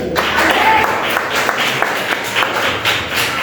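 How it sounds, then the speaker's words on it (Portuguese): A church congregation claps in praise during a service, a dense burst of hand claps filling the room, loud and close, with a few heavier taps. "Mais palmas de vitória para Jesus."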